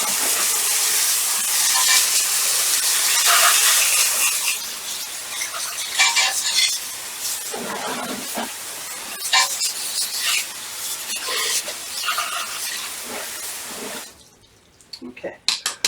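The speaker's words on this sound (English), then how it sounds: "Now I'm going to give this a rinse." A water hose rinses a car wheel, a loud hissing spray at first that breaks into uneven splashes and drips before cutting off near the end.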